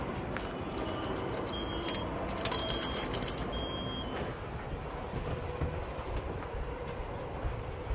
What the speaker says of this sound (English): So that is our first time to use the Japanese metro subway.